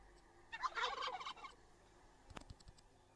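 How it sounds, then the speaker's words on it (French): A turkey gobbling in the survival game Last Day on Earth, one rapid, warbling gobble call close by, followed by a few faint clicks and taps. "j'ai vu que les dindes, c'était bien pour les animaux, que ça nourrissait bien. Donc, je propose qu'on en tue une."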